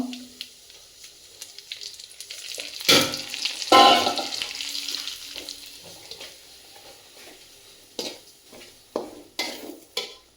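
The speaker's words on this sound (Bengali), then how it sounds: "সুজিগুলো এখন আমি ভাজবো" Semolina toasting in a pan with whole garam masala and bay leaves, with soft frying hiss and a few louder scraping stirs, then sharper spoon knocks near the end, with no voices.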